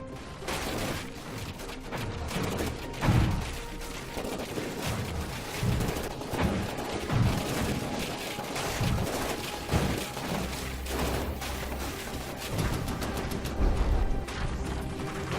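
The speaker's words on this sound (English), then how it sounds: "Good solid hit there, and then the crowd cannon finishes it off." Cannon fire hitting a ship in From the Depths: a continuous barrage of booming shots and impacts, irregular and overlapping, with heavy low thuds and crashes over a constant rumbling battle background.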